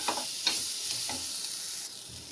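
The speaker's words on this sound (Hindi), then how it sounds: "मसालों को 2 मिनट हम और अच्छे से भून लेते हैं।" Spices and masala fry in a pan for wheat pasta, a close steady sizzle broken by several quick stirring scrapes of a spoon.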